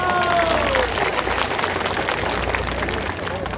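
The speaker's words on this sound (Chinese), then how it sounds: "各位杨梅的乡亲，我们掌声谢谢我们永远的常青树于天" Outdoor evening community event in Yangmei, an audience clapping steadily throughout, with a brief voice or tone at the start and a dense, moderately loud wash of applause.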